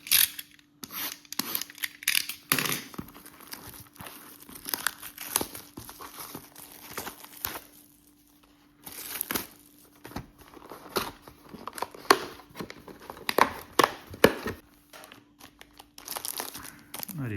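Panini Optic trading card packs are torn open and handled close up, with sharp foil wrapper crinkles and rips in irregular bursts broken by quiet gaps, and no talking.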